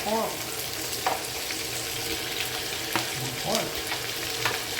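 Pork and vegetables fry in a pan with a constant close sizzle, punctuated by a few sharp stirring clinks and scrapes spaced across the clip, no voices over it.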